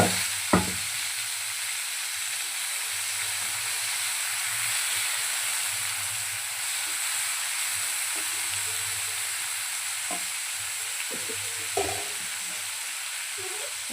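Finely chopped tomato fries in a pan for masala oats soup, a steady close hiss of sizzling oil with occasional sharp spoon taps and stirring knocks, no voices.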